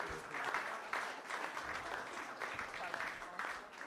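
Audience members at a venture capital panel event clap in a soft, distant patter for a few seconds, with faint voices mixed in.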